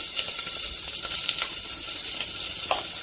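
Chopped onion drops into hot oil with whole spices for matar pulav, giving a steady, loud sizzle with faint crackles throughout and no talking.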